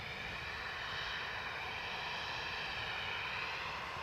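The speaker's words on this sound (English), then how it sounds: "So we've got a Ryanair 737 taxiing for departure to Dublin." A Ryanair Boeing 737 taxies at Edinburgh airport, its jet engines giving a steady, even whine and roar heard from a distance and holding constant throughout, with no voices over it.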